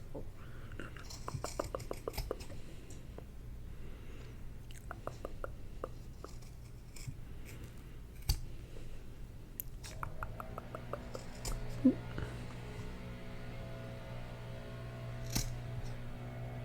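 Scissors snip through felt while a felt fox craft is cut out, producing soft, close, scattered crisp clicks and rustles over quiet handling noise, with no speech.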